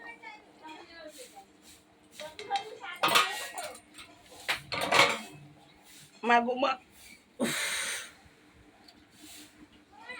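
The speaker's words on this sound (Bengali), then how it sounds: "দেখো নেড়ে ছেড়ে দিই একটু যাতে ঝোলগুলো ভেতরে ঢুকে" Fish curry stirred in a cooking pot, with scattered metallic scrapes and clinks of a utensil against the pot amid simmering hiss, interleaved with a voice talking.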